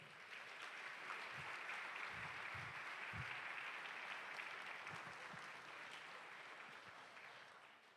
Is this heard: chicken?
no